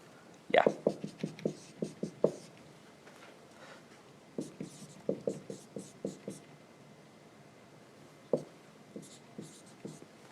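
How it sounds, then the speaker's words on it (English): Chalk or marker tapping and scraping across a board in a lecture hall, coming in quick rhythmic bursts of short strokes separated by brief pauses, fairly close and clear. "so I can write it down really quickly"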